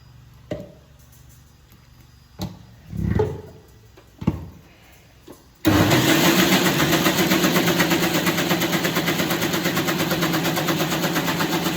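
A kitchen mixer grinder churns cream into homemade butter with a steady, loud motor whir that starts abruptly after a few scattered knocks and clatters, then runs continuously with a slightly rough, churning texture.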